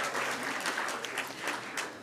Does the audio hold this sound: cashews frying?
no